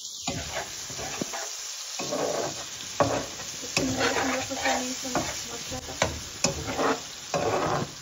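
Spiced masala for a Bengali pork curry with lai pata being stirred and fried in a pan, a steady sizzle broken by sharp scraping strokes and occasional clatters of the spoon, with a few faint voices now and then.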